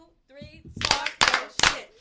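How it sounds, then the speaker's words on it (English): A small group claps their hands in three sharp bursts, each ringing out a moment after a brief spoken exchange. "Just clap."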